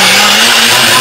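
A kitchen blender whirs steadily as it purees a handful of fresh wood sorrel with cold water, a loud, continuous motor drone that holds level throughout.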